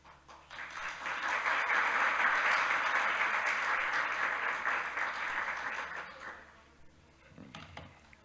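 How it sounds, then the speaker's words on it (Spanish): Audience applause at a speaking event in Ibagué, honoring the city's secretary of education, rising quickly to a full, steady wash of clapping that fades out after about six seconds, followed by a brief faint voice. "Muchas gracias por ese aplauso"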